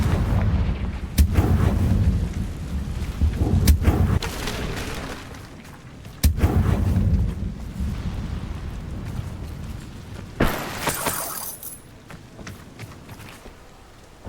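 Heavy fire-spell blasts from Confringo in the Hogwarts Legacy video game, played on a DualSense controller: repeated booming, crackling bursts with rumbling tails, loud and close, some overlapping, with no talking.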